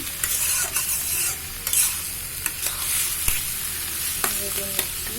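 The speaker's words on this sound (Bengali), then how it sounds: "হলুদ এবং ধনিয়ার গুঁড়োটা যেন গন্ধ না থাকে সেই জন্য একটু ভেজে নিচ্ছি" Turmeric and coriander powder fry in a pan under a constant hiss, punctuated by repeated sharp taps and scrapes of a spoon stirring close by.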